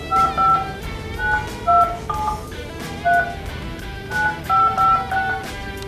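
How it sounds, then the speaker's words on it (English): Touch-tone telephone dialing a phone number, a series of short two-tone DTMF beeps in irregular bursts, clear and close over a faint background hiss, with no talk. "we have one phone number for Randall, so let's just see if it works"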